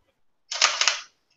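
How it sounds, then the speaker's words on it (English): A Sony mirrorless camera's shutter fires close to the microphone, giving one loud, brisk mechanical click-clack burst of about half a second with no talking. "the Sony is loud as hell. It goes when I hit the shutter button. I can click it here next to the microphone."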